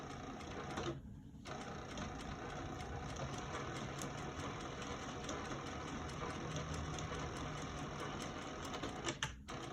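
A sewing machine back stitches along the seam of a lined zip pouch, a steady quiet mechanical whir with brief pauses, running alone without any talking.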